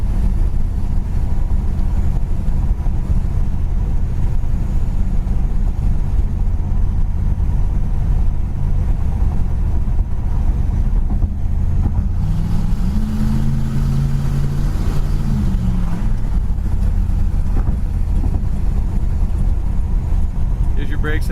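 A 1970 Plymouth Satellite cruising at 70 mph, with steady low engine drone and road roar filling the whole stretch, a brief rising-and-falling tone in the middle, and speech heard over the drive.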